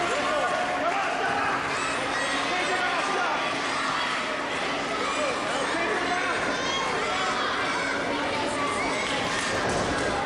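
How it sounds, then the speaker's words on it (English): A dense, steady roar from a crowd at a 2018 AMW Super Saturday Night Fever professional wrestling show, cheering for the champion. The noise stays constant throughout, mixed with overlapping chatter and occasional thuds. "cheering on the champ."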